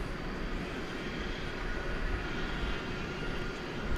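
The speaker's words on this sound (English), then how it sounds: "So it sounds like the aircraft is on its way to the ramp" Aircraft taxiing toward the ramp at DFW Airport at night, a steady broadband engine rumble and hiss that holds level throughout, moderately distant with no voices.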